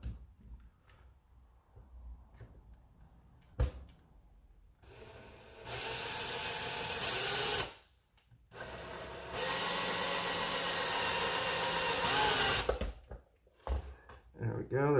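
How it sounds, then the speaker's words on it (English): Screws are driven into a Nerf Rival Forerunner mod kit, with two sustained whirring bursts from a driver, close and fairly loud, between quieter handling noises and a sharp knock. "Put the other two screws in"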